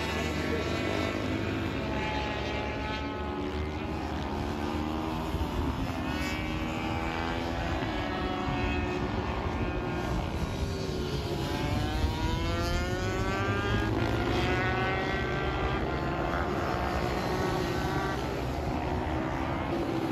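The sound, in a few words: loud 85cc motorbike engine on track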